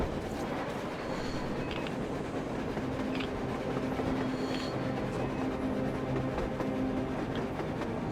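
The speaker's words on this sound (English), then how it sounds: "A train! A damn train on the surface!" A train runs on the surface in the post-apocalyptic game Metro Exodus, a continuous rumbling roll with clattering wheels and a faint squealing tone, heard on its own without speech.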